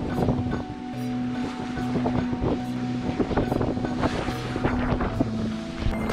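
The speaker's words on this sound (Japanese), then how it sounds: "この日はとんでもない風が吹いてました" Strong wind buffets the microphone on a rough, stormy sea coast of an island, with waves churning behind the steady roaring gusts.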